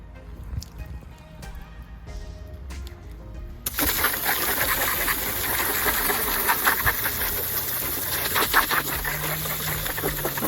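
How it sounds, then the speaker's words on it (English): Garden hose spraying water over the engine bay of a Mercedes-Benz W204 C180, a steady broadband hiss of splashing water starting abruptly after a few seconds of quieter dripping and handling noise, continuing close and constant to the end. "We just use the garden hose now to basically wash off the engine"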